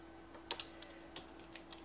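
Keyboard typing while entering a search term in 3ds Max, a short run of light, close key taps, a couple of sharper strikes followed by softer scattered clicks, quiet and with no speech.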